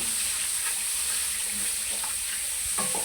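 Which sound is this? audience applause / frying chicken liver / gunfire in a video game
frying chicken liver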